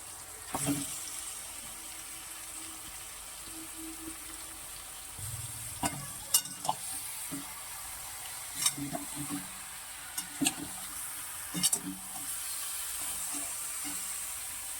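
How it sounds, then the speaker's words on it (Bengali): Mutton sizzles quietly as it is stir-fried in a pot, a soft steady hiss broken by scattered clinks and scrapes of a spoon against the pot, with no talking. "আমার এখানে মাটন কষানো হয়ে গেছে।"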